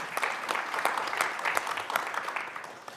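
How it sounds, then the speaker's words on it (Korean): An audience at the 2022 Busan city brand forum applauds the panelists. Distinct claps rise into a moderate, fairly quiet round that carries on for a few seconds. "긴 시간 좋은 의견 나눠주신 5분께 다시 한번 큰 박수 부탁드리겠습니다"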